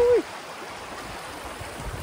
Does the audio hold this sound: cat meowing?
no